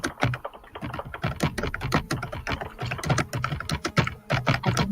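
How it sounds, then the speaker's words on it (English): Rapid computer keyboard typing during an online tabletop role-playing session, a steady run of close, crisp key clicks with uneven rhythm and no talking. "I can hear him typing."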